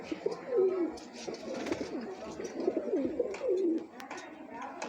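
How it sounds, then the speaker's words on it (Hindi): A large golden pigeon coos in a breeder's loft in Islamabad, giving repeated low rolling coos close by, with faint background noise and people talking softly. "ये गोल्डन कबूतर है, बड़ा कबूतर है इनके घर का"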